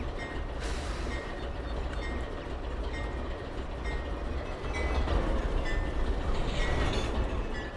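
A CSX freight train rolls along in the Trainz TRS19 railroad simulator, making a continuous, even rumble of wheels and cars at a moderate distance.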